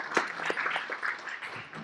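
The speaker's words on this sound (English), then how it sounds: "So a little round of applause for that" A meeting audience at a Holdfast Council session on boundaries applauds, a steady moderate patter of many hands clapping for about two seconds with no talk over it.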